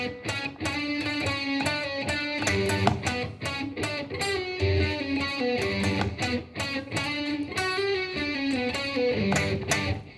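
Electric guitar riff in G Lydian mode, a steady stream of distorted, effects-laden notes with clear pitched harmonics, played continuously and up close with no speech.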